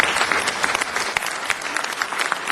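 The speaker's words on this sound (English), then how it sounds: "Let's also give a round of applause to the calendar designer, Therese Harris." Audience applause at a city council meeting, dense and continuous clapping from a room of people filling the whole stretch at steady volume.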